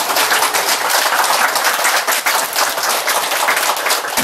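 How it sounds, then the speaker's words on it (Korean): Audience in a Buddhist lecture hall applauds steadily, a dense continuous clatter of many hands clapping at close range with no voices over it. "이런 때는요, 모르는 척하고 박수 쳐도 괜찮아요."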